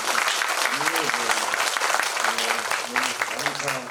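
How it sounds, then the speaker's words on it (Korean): A church congregation at an evening retreat service applauds in welcome, a loud, dense round of clapping under a voice that keeps talking throughout. "박수로 한번 저희가 환영하겠습니다."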